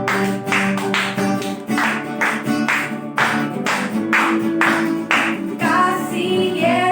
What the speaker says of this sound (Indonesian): Kita tepuk tangan di atas.